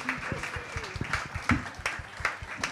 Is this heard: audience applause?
yes